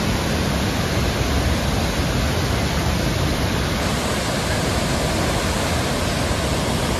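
Devkund waterfall roars in the rainy season, a loud, constant wash of heavy flowing water with no break and no voices.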